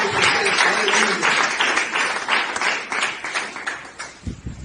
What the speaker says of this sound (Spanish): Eso merece un fuerte aplauso.